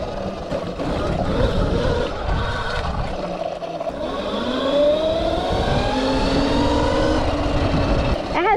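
A Mototec 60V 2000W electric mini dirt bike rides over slippery dirt, a steady whining motor hum with rising and falling pitch running continuously throughout, fairly loud and close.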